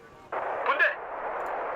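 A sudden burst of artillery fire in Wargame: Red Dragon strikes an enemy command unit, a loud blast with a crackling peak that settles into a sustained rumbling hiss.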